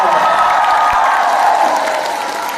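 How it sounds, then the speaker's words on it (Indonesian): Crowd clapping at a humorous Islamic religious gathering in Hong Kong, a loud, steady wash of applause with faint cheering mixed in, fading slightly toward the end. "Jadi sing tepuk tangan"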